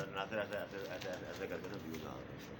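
Golden pigeons, former jet-flying champions, coo softly nearby in their loft, the low rolling calls mixed with a faint voice in the background.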